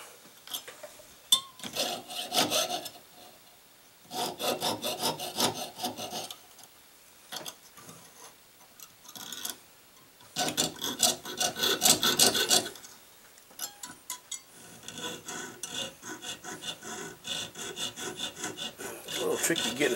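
Hand file rasping on a sterling silver fox pendant during jewelry making, in bursts of quick back-and-forth strokes separated by short pauses, close and fairly quiet.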